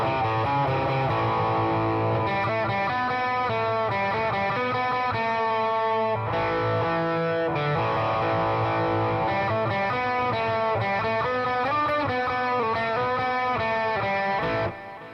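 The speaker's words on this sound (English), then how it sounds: "let's go back to the overdrive and let's dime the overdrive" A Gibson Les Paul Studio plays through a Boss Katana MK2 100-watt 1x12 combo amp with the overdrive maxed, giving a thick, saturated distorted tone that sustains loudly and continuously for the whole stretch.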